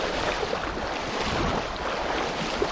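Fast-moving shallow creek water rushes steadily as someone wades knee-deep through it in mountain backcountry near Grande Cache, a loud, continuous churning wash with wind-like noise and no talking.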